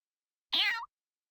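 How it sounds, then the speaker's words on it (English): A single short cat meow from the video game Fire Emblem Warriors Three Hopes, clear and close, rising slightly in pitch at the end and followed by silence. "you're a good kitty, aren't you?"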